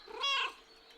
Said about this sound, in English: Cheerful meow.